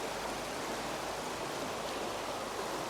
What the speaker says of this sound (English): Now the water running out of this lade